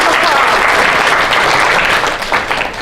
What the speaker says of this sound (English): big round of